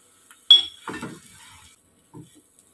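A spoon stirring potato stuffing into onions in a pan: a sharp metallic clink, then a few soft scraping stirs, and a light knock near the end, close and otherwise quiet.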